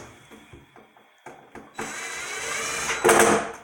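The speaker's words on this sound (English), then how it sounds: "Drill, driver." A few soft knocks, then a power drill with a Phillips bit whirs up and runs steadily driving a screw into cabinet drawer hardware, rising into a louder, straining burst near the end.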